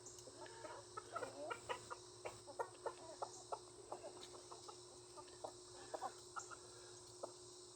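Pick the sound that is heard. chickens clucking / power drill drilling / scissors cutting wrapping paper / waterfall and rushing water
chickens clucking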